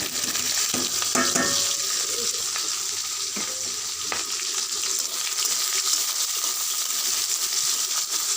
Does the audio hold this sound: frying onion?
yes